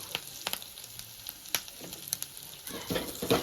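Ginger-garlic paste being stirred into a bamboo shoot curry frying in a pan, soft sizzling broken by sharp intermittent clicks and scrapes of the spoon that grow busier toward the end.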